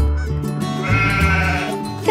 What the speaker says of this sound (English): The black sheep.